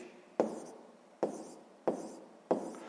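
Four sharp strokes of writing, evenly spaced about a second apart, each a crisp tap fading into a short scrape, as a ratio of 300 to 12,000 is set down as a fraction in a sixth-grade math exercise.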